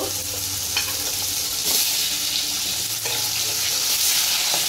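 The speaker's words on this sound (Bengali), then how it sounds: "আলুটা হালকা ভেজে নেবে।" Potatoes frying in a pan while a jackfruit curry is being made, a steady close hiss of sizzling oil running throughout with faint scraping from stirring and no talk.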